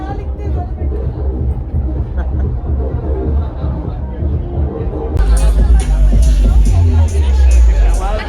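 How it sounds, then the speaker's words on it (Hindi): Dense festival crowd at Tomorrowland in Belgium, a thick babble of many voices close around, with loud thumping music and cheering swelling in over the second half. "भाई बहुत ज्यादा भीड़ हो रही है यार, मतलब चलने की भी जगह नहीं है।"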